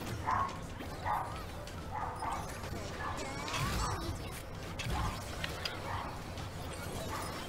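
Dog barks and yips from a dog debuff in a video game sound in short repeated bursts over a constant din of game effects, with a player talking at times.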